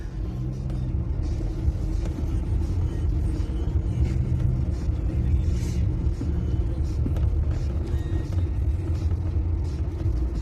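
Continuous heavy rumble of a car engine held under throttle, a steady deep drone with slight wavering in pitch lasting throughout, close and loud with no talk.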